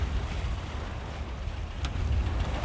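Steady, rumbling wind buffets the microphone aboard a sailboat under sail in roughly 12 knots of true wind, with water rushing faintly beneath the broad roar and no one speaking.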